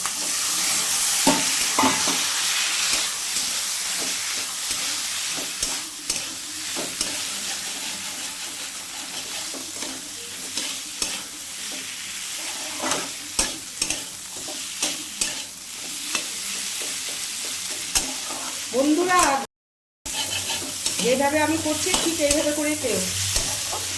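Banana flower curry cooking in a pan with fried potato, peanuts and Gobindobhog rice, with water added: steady stirring and a soft sizzle run throughout, broken by scraping strokes and a short gap near the end.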